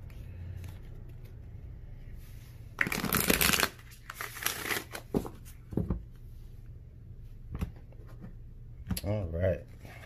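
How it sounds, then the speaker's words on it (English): Cards being shuffled up close in a few crisp riffling bursts, with short pauses and soft handling noises between them against a low steady hum. "Right, let's get one more shuffle and then we'll cut the deck."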